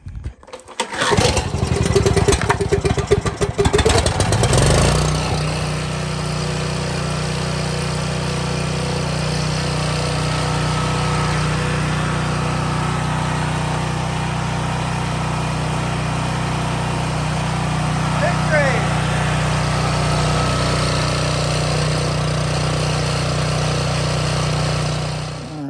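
A portable generator engine cranks with a rough sputtering burst, catches and settles into a steady, loud, continuous running drone that holds close and constant to the end, with no voices.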